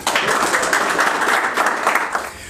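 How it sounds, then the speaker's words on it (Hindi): An audience at a stand-up comedy show applauds a comedian, a thick continuous patter of many hands clapping at once, fairly loud and filling the room. "जोरदार तालियों से स्वागत करना चाहूँगा मैं"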